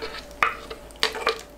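Garlic and chili flakes being stirred into a seasoning paste with ginger syrup and plum syrup, made as a sauce for cucumbers. Soft scraping, wet mixing strokes come up close in a few separate bursts, with no talking.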